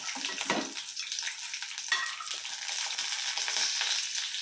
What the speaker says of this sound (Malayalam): വെളിച്ചെണ്ണയിൽ ഉണ്ടാക്കുന്ന ടേസ്റ്റ് വെളിച്ചെണ്ണ വയ്ക്കണം അപ്പോൾ ഇതിലോട്ട് ഞാൻ ഉള്ളികൾ ഇടുന്നുണ്ട്